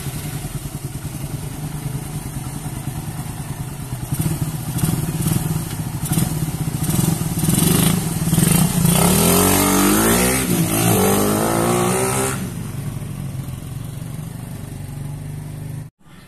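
Suzuki Satria FU motorcycle with a rough-running engine on a test drive: a close, steady engine drone that rises into a loud rev with sweeping pitch in the middle, then settles back before stopping.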